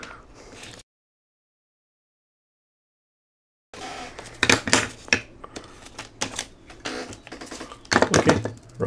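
Gasket material being cut freehand with a blade for a Godox AD600 Pro lightstand mount, giving a run of close, crisp snipping and scraping clicks in irregular bursts after a silent gap.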